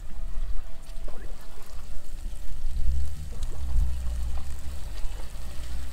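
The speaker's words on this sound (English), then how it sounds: "pour some soy sauce in there." Soy sauce is poured into a hot pan holding trout or other lake fish, giving a continuous close sizzle and splashy liquid sound with low rumbling bursts throughout.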